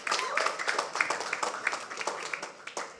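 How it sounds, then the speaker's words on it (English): A round of applause from an audience at a Filmfare Awards 2023 press event, dense close clapping, fairly loud and continuous before gradually thinning out. "a big round of applause for our esteemed partners and"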